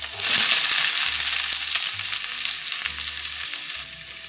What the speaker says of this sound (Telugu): ఆయిల్ కొంచెం బాగా వేడి అయిన తర్వాతనే మనం కట్ చేసుకున్న ఉల్లిపాయలని వేసుకోవాలి